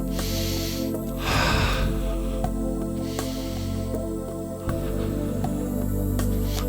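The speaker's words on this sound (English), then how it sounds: "Take a couple of breaths." Deep, slow breathing during a yoga class, with a strong inhale swelling near the start over steady background hum.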